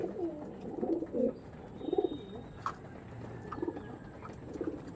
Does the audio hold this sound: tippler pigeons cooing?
yes